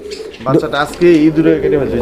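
A male and female pigeon pair on a loft pot cooing close by in repeated throaty, rolling phrases, with people talking over and between the calls.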